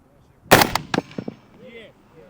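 A single sharp rifle shot cracks out during long-range shooting at 800 metres, followed by a few quieter echoing reports fading away.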